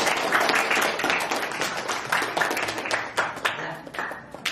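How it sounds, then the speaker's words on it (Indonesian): A classroom group in an Indonesian teacher training session claps together, a brisk burst of hand clapping that is loud at first and thins out toward the end, close by with no speech. "Oke, sekali lagi tepuk tangan untuk kelompok poin dan untuk kita semua."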